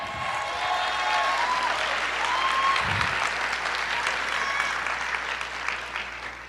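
Church congregation breaks into sustained, dense applause that fills the room at an even level, with a few faint voices and scattered cheers mixed into the clapping.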